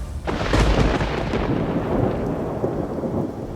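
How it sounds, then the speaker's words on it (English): Rolling thunder from an Arizona monsoon storm, a loud, sustained rumble that swells early and keeps booming for several seconds with rain noise underneath. "One clap of thunder can take your breath away."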